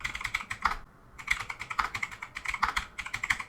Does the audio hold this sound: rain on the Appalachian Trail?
no